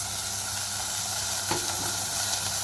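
Rice tipped into a pot of hot oil for mujadara, giving a constant hissing sizzle with a short rattle of grains landing midway, steady and close.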